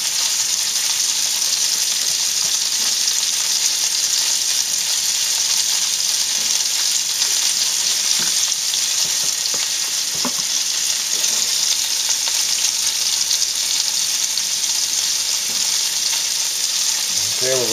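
Salted and peppered pork tenderloin sears in a pan with a loud, constant sizzling hiss that holds steady throughout, a few faint taps and scrapes surfacing briefly.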